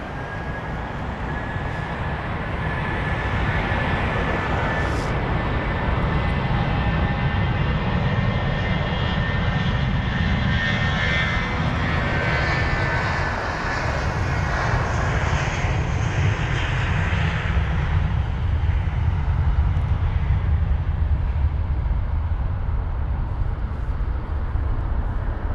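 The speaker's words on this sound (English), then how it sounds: "Off that goes a 320 CEO." A British Airways Airbus A320ceo with retrofitted sharklets takes off at Heathrow. Its engines give a loud, sustained roar with a high whine, heard steadily from nearby for about twenty-five seconds.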